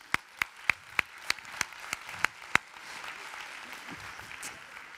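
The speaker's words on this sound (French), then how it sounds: "applaudissons-nous car vous êtes magnifiques" At an agricultural awards ceremony, a single nearby pair of hands claps about ten times in an even rhythm over a soft room murmur, then the clapping stops and only low background noise remains.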